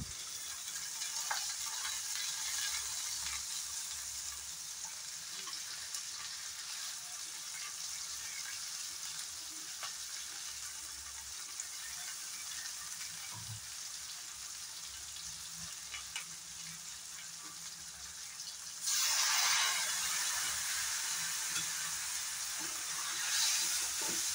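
A paste of black and white mustard, poppy seed, garlic and green chilli fries in a pan with a soft continuous sizzle, and a brief louder hiss of steam rises near the end.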